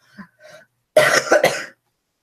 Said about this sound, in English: And I have this extreme cough.